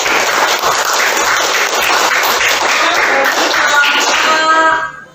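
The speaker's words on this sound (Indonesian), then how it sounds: "tepuk tangan." Sustained applause from a class of students in an Indonesian classroom, many hands clapping steadily at close range for about five seconds before fading out.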